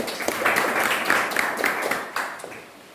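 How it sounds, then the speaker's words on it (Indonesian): Students in a classroom give a brief round of hand clapping, about six distinct clap bursts in a loose rhythm that fades toward the end, fairly close and without talk over it. "Iya, tepuk tangan"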